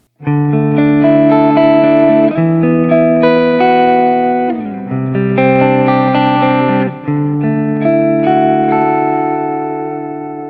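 An electric guitar played with a clean tone on its neck pickup rings out sustained chords, changing a few times and fading at the end, loud and alone.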